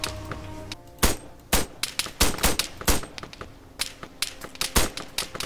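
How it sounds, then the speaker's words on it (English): Gunfire in the military game ARMA 3, a string of sharp irregular shots cracking out one after another, some close and loud, others lighter, with no talk. "I'm shooting at trees!"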